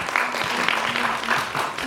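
A mentor is welcomed at a youth job-mentoring concert as the audience gives a brief, moderate round of clapping, with a few louder claps standing out and faint voices underneath.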